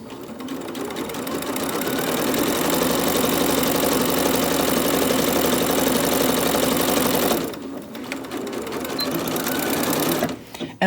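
A sewing machine stitching a fabric seam for a scrunchie, a loud, fast, steady mechanical chatter close by that runs continuously, breaks off for a moment, then resumes briefly before stopping.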